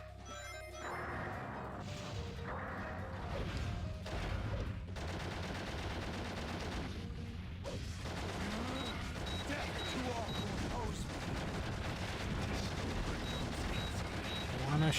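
Gunfire in a Sonic game while playing as Shadow: continuous clattering shots and crashing impacts under busy game music and effects, with a voice talking over the action.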